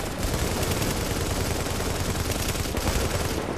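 Sustained rapid automatic gunfire from The Division video game, loud and unbroken, dense rattling shots with no talk over it.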